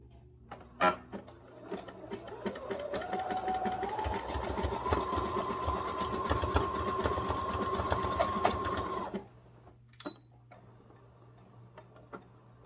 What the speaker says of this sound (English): I'm just going to bring my sewing machine back to where I can see it.